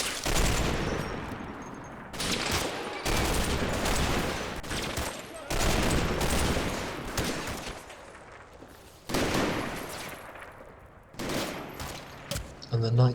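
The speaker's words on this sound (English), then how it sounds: "The entire section returns fire." Infantry section returning fire in the World War II strategy game Combat Mission, bursts of rifle and machine-gun fire in several loud, close volleys separated by brief lulls, with faint distant booms.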